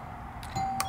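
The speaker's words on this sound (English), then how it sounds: "This is my doorbell. Very plain, very boring." A plain, basic home doorbell rings with a short electronic chime tone, heard close and fairly clear over low room noise.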